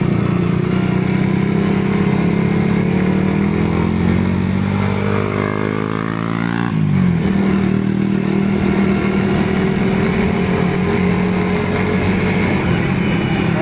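A motorcycle engine runs loudly and close, revving up and dropping back, its pitch rising and falling, with a sharp throttle change midway and no talk.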